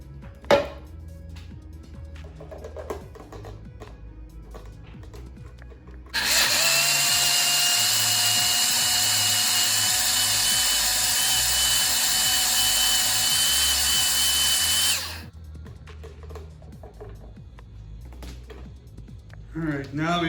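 A blender roars steadily for about nine seconds, pureeing tomato juice with canned pineapple and jalapenos for a chili, loud and even, with quieter kitchen handling before and after.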